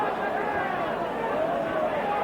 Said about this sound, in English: Really very big crowd at Ibrox now.